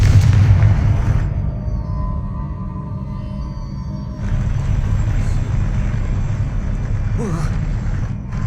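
The Confringo explosive fire spell in Hogwarts Legacy: a heavy, loud boom opens, decays into a lower rumble, then a second burst and renewed rumbling follow midway.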